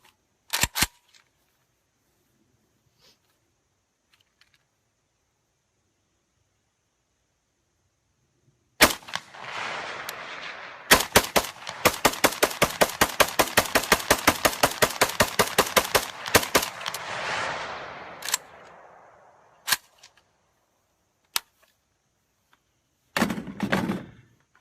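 AK rifle fitted with a PMag magazine: a single loud shot, then a rapid string of around thirty evenly spaced shots with ringing echo, followed by a few isolated reports; outdoor range, no talking.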